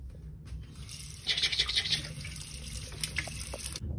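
A bathroom tap runs into a sink while someone washes their face, a close running-water splash with some clattering bursts and a brief lull near the start.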